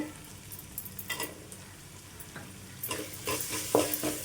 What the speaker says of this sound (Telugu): ఈ మసాలా మొత్తం ఇందులోనైతే ఫ్రై అవ్వాలండి